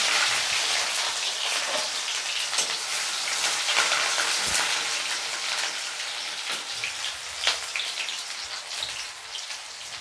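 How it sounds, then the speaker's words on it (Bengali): Onion sizzling in hot mustard oil in a wok, a dense, steady crackle and spatter of tiny pops running throughout at close range, with no one speaking. "তেলটা গরম হয়ে গেছে, পেঁয়াজটা দিয়ে দিচ্ছি।"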